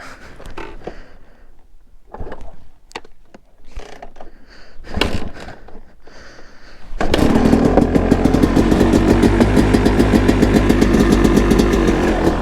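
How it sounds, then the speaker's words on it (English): A 2009 KTM 250 EXC dirt bike with the choke on gives a few clicks and cranking attempts, then its two-stroke engine fires and settles into a loud, rapid, buzzing idle close by. "Always starts really well. Very loud bike"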